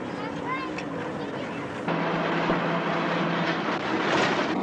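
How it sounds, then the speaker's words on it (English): Ride inside an old oplet taxi in Jakarta, a continuous rattling vehicle rumble with a steady engine drone that steps up louder midway, with talk mixed into the noise. "So we set off in a sort of taxi that they call an opalette."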